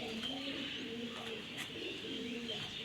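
A pigeon coos in soft, repeated low calls close by, with quiet handling noises and a brief sharper tick mixed in.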